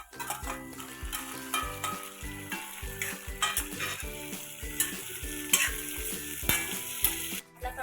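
Onion and tomato sauté in a pan for pav bhaji, a steady close sizzle broken by repeated scraping stirs of a spatula, with a rhythmic clatter running throughout and no talking.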